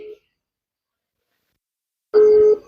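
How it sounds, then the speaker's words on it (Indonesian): A telephone call tone: a short beep, a silent gap, then a longer steady electronic tone, loud and clean with no talk. "Oke, kita telepon Abang Tengkuruk Channel."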